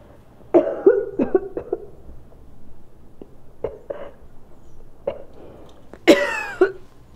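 A person coughs several times in short, rough bursts, close by, ending with a harsher hacking cough; no talking.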